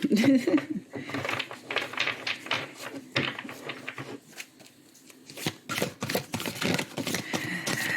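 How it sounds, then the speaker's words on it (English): Tarot cards are shuffled by hand close up in quick papery bursts and riffles, pausing briefly midway before resuming, while a person talks over parts of it. "when I am shuffling"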